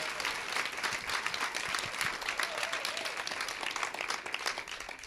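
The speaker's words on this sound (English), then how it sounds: "Don't clap yet, I haven't made it home yet, so." Audience applause fills a hall at a Leading Moms event, dense steady clapping from a large crowd at close range throughout.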